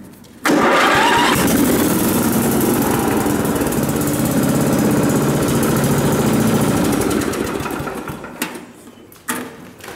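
A Wheel Horse garden tractor engine catches and runs at a steady loud drone close by, its pitch sagging slightly near the end before it cuts out abruptly, followed by a brief clunk.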